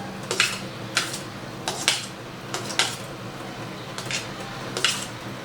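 Chopped onion tipped into a bowl for a kulhad pizza filling, with capsicum pieces, heard as a series of about seven light clinks and taps of a spoon against the dish, evenly spaced and close.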